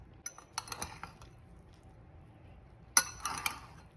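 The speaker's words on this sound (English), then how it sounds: "I'm going to give it a good stir with a fork." A fork scrapes and clinks against a pot while stirring cooked chicken biryani rice, with short scattered bursts of light metallic taps separated by a quiet pause.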